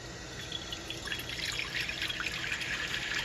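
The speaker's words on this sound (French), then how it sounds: "J'ai trouvé un de ces bols magnifiques. Alors, on va le remplir d'eau." Tap water trickles and drips into a bowl at close range, a steady splashing stream with small bright droplet spatters throughout, no voices.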